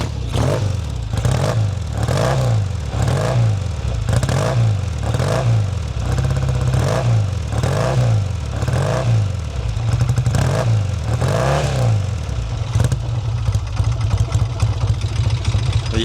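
A 1968 Triumph T120R Bonneville 650cc twin runs loud and close, its engine revved in a steady series of rising and falling blips, about a dozen pulses, with mechanical clatter throughout.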